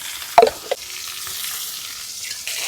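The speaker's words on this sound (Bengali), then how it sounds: "অল্প আঁচে মশলাটা খুব ভালোভাবে কষিয়ে নেব" Spice paste with ginger, salt and turmeric fries on low heat, giving a faint continuous sizzle under a couple of sharp spoon knocks against the pan early on, then quieter stirring.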